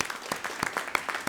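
Audience applause at a poetry symposium in Shimla, a dense patter of claps with a few sharper bursts, moderately loud and brief, with no voices over it.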